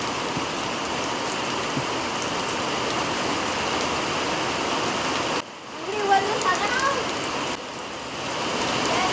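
Heavy rain pours in a constant close hiss, briefly easing for a moment midway before returning at full strength, with a faint voice heard during the lull.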